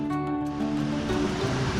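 Water flows through a large drain beneath a bridge by the Godavari River in Nashik City, making a loud, steady rushing roar with a low hum underneath.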